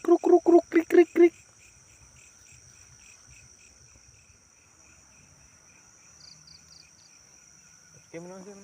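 Crickets at an abandoned housing estate: a voice first imitates the chirping in a few quick rhythmic bursts, then a thin, steady high trill carries on quietly underneath, with faint rustles and a brief louder noise at the end.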